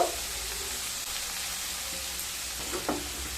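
Two spoons of poppy seeds sizzling in a little mustard oil in a pan, a soft steady frying hiss with faint stirring scrapes, close and continuous without speech.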